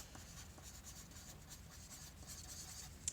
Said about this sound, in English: Alright, so first thing we need to do is write our name